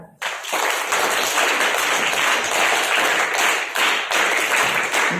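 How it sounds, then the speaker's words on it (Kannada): Large audience at a Kannada talk by a cardiologist breaking into loud, dense applause that starts abruptly and holds steady for several seconds. "ಜೋರಾಗಿ ಚಪ್ಪಾಳೆ"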